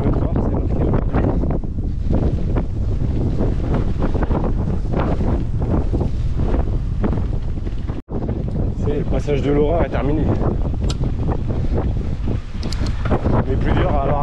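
Wind gusting hard across a microphone on a ride during the Beaujolaise 2024 event, a steady, loud rumbling buffet that runs nearly throughout, with a brief dropout near the middle and a voice speaking over it.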